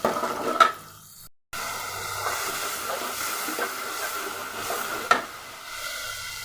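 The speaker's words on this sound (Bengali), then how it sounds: "পেঁয়াজটা ভালো করে ভেজে নেব।" Onions sizzle in a pan alongside bottle gourd curry, a steady frying hiss with occasional stirring clicks after a brief silent gap near the start.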